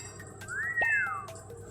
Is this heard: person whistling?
yes